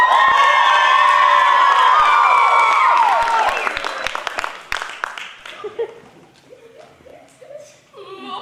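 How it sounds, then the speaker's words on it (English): A high school improv audience screams loudly together for several seconds, then the yelling breaks into scattered cheers, laughter and chatter that fade down. "we gotta scream really loud to get Claire back out here"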